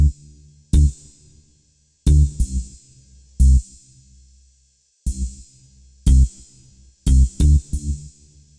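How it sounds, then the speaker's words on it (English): Korg Triton warm bass patch with ride cymbal plays punchy, deep bass notes in an uneven groove, each paired with a bright shimmering cymbal hit, repeating loud and up close with short silences between phrases. "this is the warm bass and ride"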